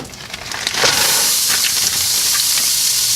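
Food dropped into melted butter in a hot pan for a keto meal, sizzling up with a sudden loud hiss that rises within the first second and then holds steady, bright and close, with no voices.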